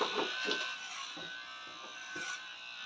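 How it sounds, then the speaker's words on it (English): Electric shaver or clippers shaving a person's head: a faint continuous buzzing hum with a few soft scraping strokes as the blade passes over hair, quiet and steady, no talk. "So now, I'm gonna have to shave my head."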